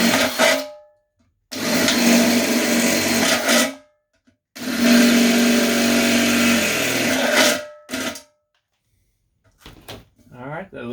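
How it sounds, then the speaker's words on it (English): A power drill with a 1/8 bit boring holes in a mini keg for a Bluetooth speaker, two long steady whirring runs separated by short silences, loud and close, with a few small handling clicks at the end. "Go ahead and drill your holes"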